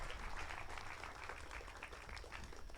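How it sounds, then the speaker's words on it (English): An indoor audience at a virtual reality event in Los Angeles claps in a steady, dense round of applause that stays even throughout, with no voices over it. "Can we please give them a round of applause?"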